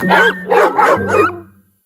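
Dog barking in a TV advert for an itch-relief medication, four quick loud close barks in a row that taper off into a short whimpering tail.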